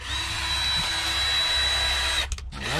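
Cordless drill whirring steadily during a flush-mount bumper pod light install, a loud continuous motor whine that cuts off near the end with a brief stutter before restarting.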